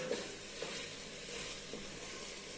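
Meat cooking in a pot for a turkey and okra dish, giving a quiet, steady sizzle and bubble with a few faint clinks, heard close up and alone.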